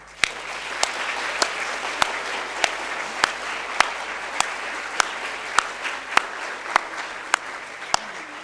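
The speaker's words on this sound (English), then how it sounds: "Could we give them a final round of applause, please?" Audience applause fills a secondary school awards ceremony, a steady dense patter of clapping held at an even level throughout, with sharp louder claps standing out at regular intervals.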